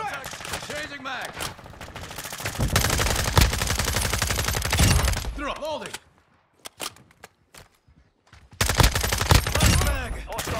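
Heavy automatic gunfire in Call of Duty: Modern Warfare II, loud sustained bursts with dense rapid cracks, breaking off into a near-silent gap with a few isolated shots before another loud burst resumes; speech mixed in.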